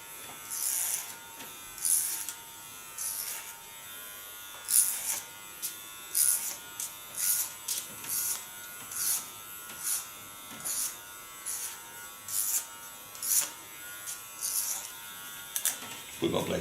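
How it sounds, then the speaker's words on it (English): Electric hair clipper buzzing through very thick, short, freshly lightened hair, a close steady hum rising into repeated rhythmic bursts as it strains through each pass. "The clipper really has to work on her."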